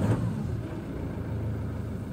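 A Peugeot Boxer diesel van engine idles unevenly with a slight surge, a steady low rumble heard close and alone throughout.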